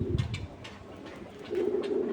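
Large racing pigeons coo softly and repeatedly, a low warbling murmur that swells near the end over faint background noise.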